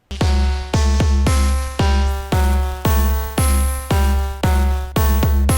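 A Gamechanger Audio Plasma Voice synth module plays a repeating series of tonal notes, each struck with a punchy kick drum, evenly spaced in a steady rhythm, loud and clear.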